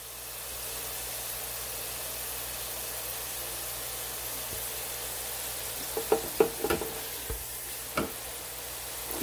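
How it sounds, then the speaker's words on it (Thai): Fresh potato strips, sliced long and thin, fry in oil in a pot with a steady hiss, while a few louder crackles and utensil clinks break through near the end. "ก็มาทอดมันฝรั่งสด"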